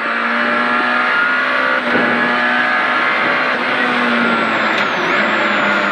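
A rally car at speed on a stage of the 2018 Rallye Bornes gives a loud, steady, close engine drone with small shifts in pitch throughout.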